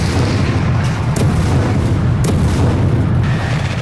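Repeated heavy booms and blasts from military strikes on Gaza, a dense, continuous low rumble with sharper thuds standing out, loud throughout with no talk.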